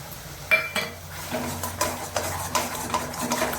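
A spoon scrapes and clinks against a pan while mustard, nut and chilli paste is stirred into banana stem mash cooking over high heat, with soft sizzling and irregular metallic taps close by.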